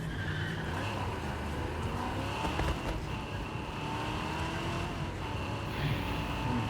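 A car drives in a video game, its engine a steady, continuous hum mixed with dense game ambience and background sounds throughout.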